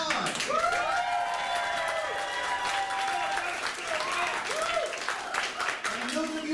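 Live audience at a political town-hall style event bursts into sustained applause during a quick show-of-support poll for a candidate, dense steady clapping filling the room for several seconds, with some voices mixed in.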